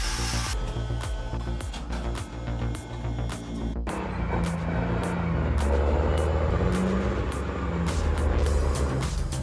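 A heavy truck hauling timber grinds along a slippery mud road, its engine a loud, continuous low rumble with a shift in tone partway through, with no voices.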